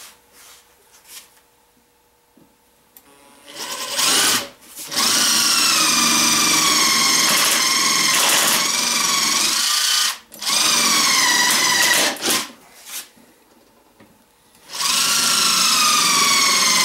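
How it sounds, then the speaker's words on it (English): Power drill boring pilot holes into clamped, glued wood while building an ammo box: loud whining bursts of several seconds each, with short pauses between them, close up and alone. "Now let me drill some pilot holes."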